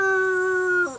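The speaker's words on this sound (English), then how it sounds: "And in dog language, that is arr" Beside Loch Ness, a dog gives one sustained, steady howl that holds a clear pitch for nearly a second before it breaks and fades out.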